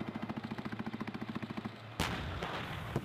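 Army combined arms live fire training exercise: a rapid, steady burst of machine-gun fire, about twenty evenly spaced shots, followed by a heavy artillery boom and a couple of further distant blasts.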